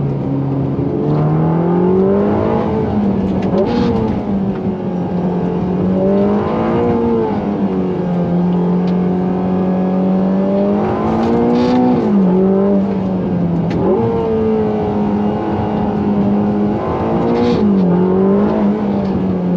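A Ferrari Roma's engine pulls hard while driving, a loud, steady in-cabin drone that rises in pitch through repeated acceleration runs, dipping briefly at each gear change before climbing again.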